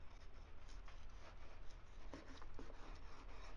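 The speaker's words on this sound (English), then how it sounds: "And what I'm going to do right now is I'm just going to cut into it" A razor-sharp knife slices into a sous vide steak cooked to 128 degrees, giving soft, close rasping strokes at low volume with no talking.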